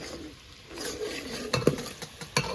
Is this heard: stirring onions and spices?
yes